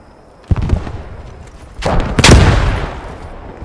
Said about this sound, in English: Throwing another nade